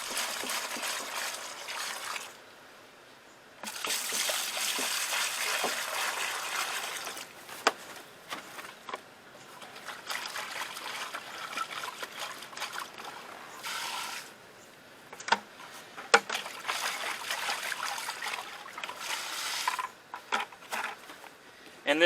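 Leftover sugar syrup is poured out of bee feeders in a steady splashing trickle, broken by brief pauses and occasional plastic clunks as the containers are handled.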